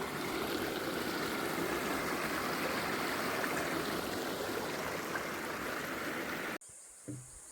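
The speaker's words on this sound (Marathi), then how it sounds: "आपण ओढा क्रॉस करून पुढे आलेलो आहोत." A forest stream near a waterfall rushes in a steady, dense wash of flowing water, loud and close, before cutting off abruptly near the end.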